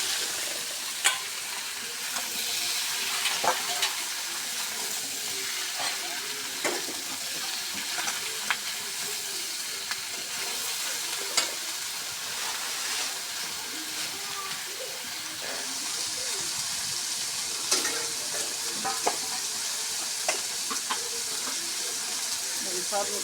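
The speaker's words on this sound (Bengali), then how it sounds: "দেখুন আমার তেলানিটা লাল লাল করে ভেজে নেওয়া হয়েছে। এখন বেগুন আলু ঢালে দিলাম।" Eggplant and potato frying in hot oil give a loud, steady sizzle, with scattered scrapes and clicks of stirring across the whole stretch.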